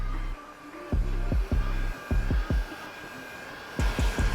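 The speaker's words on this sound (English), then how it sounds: "I'm gonna blow a little air on the bottom side to just curl it a little extra" Heat gun blowing air on window tint film while tinting a 2019 Honda Accord: a loud, steady whooshing blower hum with a rapid train of clicking pulses, cutting in and out in short bursts.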